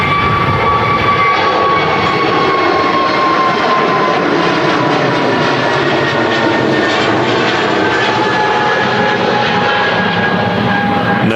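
An EasyJet jet departs Manchester Airport bound for Athens, its engine roar loud and steady throughout with a whining tone drifting slowly downward as it climbs away.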